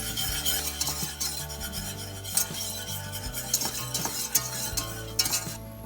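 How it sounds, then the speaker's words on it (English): A whisk scrapes and rasps rhythmically around a pan as flour is stirred into foaming, slightly browning butter for a herbed bechamel, with repeated close strokes, light metallic clinks and a faint steady sizzle underneath. "We're going to add about 3 tablespoons of flour and whisk it the whole time you're adding it."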